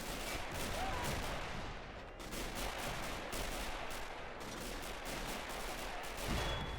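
Dense, continuous gunfire from a Men of War Assault Squad battle, with rapid overlapping shots and bursts forming a steady roar throughout and no voices.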